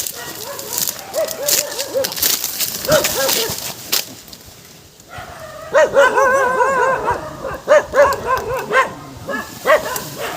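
Repeated dog barks and yips, loud and close, coming in irregular bursts with whining tones between them, plus a few brief voices in the background.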